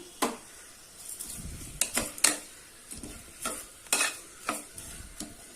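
Tomatoes with mint and salt sautéing in a pan, a soft sizzle broken by repeated scraping and clinking of a spoon stirring against the metal, close and moderately quiet.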